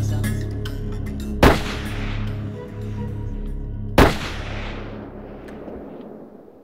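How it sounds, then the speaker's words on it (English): Two loud gunshots from a Smith & Wesson .44 during a brown or black bear hunt in southern Alaska boom a few seconds apart outdoors, each followed by a rolling echo over a low, steady background rumble. "I pulled the trigger."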